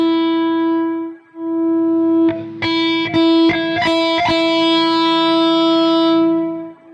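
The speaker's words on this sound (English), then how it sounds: "So, this is me turning up the gain." An amplified instrument holds a steady, buzzy sustained tone, then a cluster of sharp struck notes rings out over it as the gain is turned up, with no talking.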